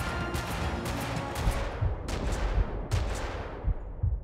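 Gunfire from the video game Max Payne 2: The Fall of Max Payne, several sharp, loud shots with echoing tails cracking out amid continuous background noise.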